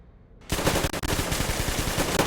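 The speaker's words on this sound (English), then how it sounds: "all you're hearing are gunshots right now" Gunfire in the video game Metro Exodus: after a brief quiet start, loud rapid automatic shots burst in and continue as a dense, fast volley.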